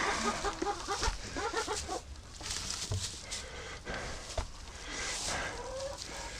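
Several Rouen ducks and chickens cluck steadily nearby, with scattered calls and a short rising squawk over a busy farmyard background.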